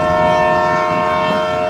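A train sound effect for a drama scene set on the Sealdah line, a short sustained horn-like tone over a low rolling rumble.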